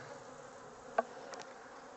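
Soft, steady honeybee buzzing hums throughout at a hive during honey harvest, with a couple of brief louder buzzes as bees pass close by.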